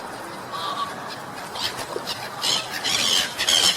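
Ducks and other waterfowl calling at the Diagonal Mar park lake in Barcelona, a scatter of short squawks and quacks over steady outdoor background noise, growing busier and louder toward the end.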